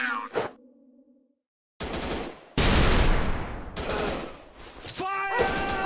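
Gunfire in a shooter video game: a few short electronic tones, a brief silence, then loud, dense bursts of rapid automatic fire that come in waves with slight dips between them.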